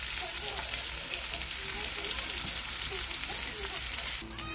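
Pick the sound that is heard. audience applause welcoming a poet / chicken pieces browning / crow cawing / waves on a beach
chicken pieces browning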